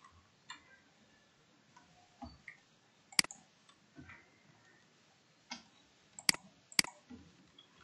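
Keys on a computer keyboard tap quietly in sparse, irregular clicks, with a few sharper keystrokes standing out in a quiet room.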